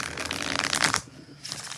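A deck of tarot cards being shuffled up close: a second of dense, crisp flutter, a brief pause, then the shuffle resumes more softly.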